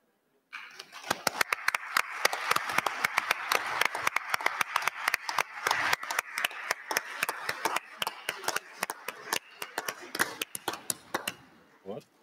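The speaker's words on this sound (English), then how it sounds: "I will ask if we can adopt the declaration by applause." Conference delegates at a parliamentary speakers' gathering in Vienna applaud to adopt a declaration: a sustained round of clapping from a large hall that thins into scattered claps before stopping.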